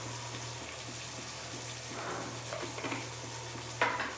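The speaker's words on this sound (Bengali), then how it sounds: "এবার ভালো করে নাড়িয়ে চাড়িয়ে নেব" Rohu fish curry with ridge gourd, potato, Kashmiri chilli and turmeric being stirred in a pan: soft scraping and shuffling over a low sizzle, ending in a sharp clink of a utensil against the pan.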